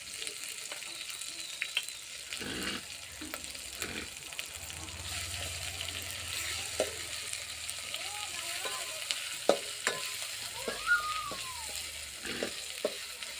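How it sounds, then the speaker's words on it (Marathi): Garlic ginger paste for a spicy chicken dish fries in a pan, giving a quiet, steady sizzle with occasional stirring scrapes and clinks and some faint voices in the background. "आता लसूण अद्रकची पेस्ट टाकेल. ते एकत्र वाटलेलं आहे."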